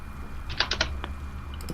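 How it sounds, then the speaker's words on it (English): A computer keyboard being pushed gives a short cluster of faint clicks and knocks, about four quick taps followed by a couple of softer clicks, over a quiet room hum with no voices. "Pushing my keyboard a bit here."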